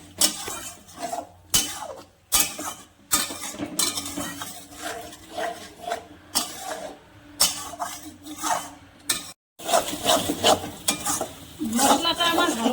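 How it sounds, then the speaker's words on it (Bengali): Spice paste for a Bengali prawn curry with a little water is stirred and fried in a pan, utensil scraping and clinking against the metal over steady sizzling, with brief pauses and louder clatter toward the end. "এবার আমি মশলাটাকে ভালো করে কষিয়ে নেব।"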